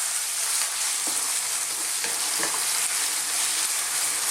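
Lamb pieces stir frying in a pan over medium to high heat, a constant loud hiss of sizzling oil with a few soft scrapes of the spoon stirring the meat, no talking.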